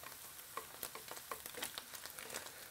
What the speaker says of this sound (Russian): Имбирь и чеснок прижариваем слегка вот в этом месте.